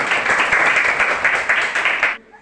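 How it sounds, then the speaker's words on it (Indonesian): Classmates clap for a student named Revalina in a classroom, a dense burst of hand claps lasting about two seconds before stopping abruptly, leaving a faint quiet room. "kita tepuk tangan untuk Revalina"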